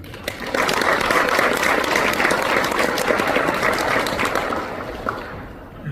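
A room full of wedding guests claps steadily for several seconds, a dense, even applause that fades slightly toward the end.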